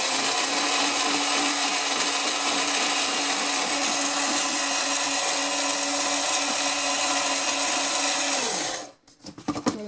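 Blender grinding dried chestnuts into fine flour, a loud, steady high-pitched whirring roar close by that runs almost the whole time, then winds down and stops with a few rattles at the end.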